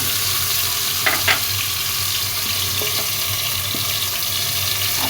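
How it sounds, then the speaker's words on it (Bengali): Mustard paste frying in hot mustard oil for a raw mango pickle, a loud continuous sizzle close by, broken by a few brief clinks around the middle, with no talking. "খালা একটু গরম তেলে, সরিষার তেলে সরিষা বাটাটা আগে দিয়ে দিলাম।"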